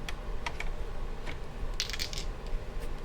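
Dice clatter into a tabletop dice tray during a roleplaying game session: a few light taps, then a cluster of quick rattling clicks near the end, close and fairly crisp, with no voices.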